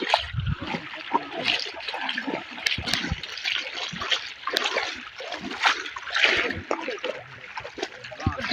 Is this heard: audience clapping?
no